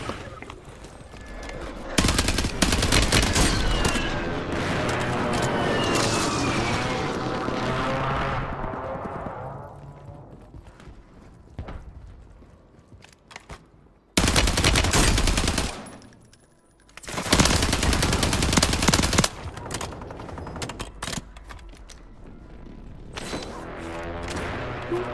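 Loud, sustained bursts of automatic gunfire in Warzone from glitched akimbo Glock pistols fitted with switches, dense rapid volleys broken by short pauses, with brief voices in between.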